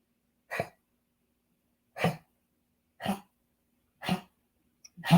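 A dog with something stuck in his throat coughs five times in short, harsh bursts about a second apart, close by, with silence between them.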